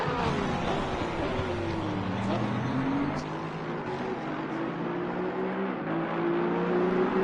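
Porsche and Aston Martin GT race cars lapping Suzuka in Assetto Corsa Competizione, steady engine drone with rising and falling revs through gear changes, close and continuous, no one talking in it.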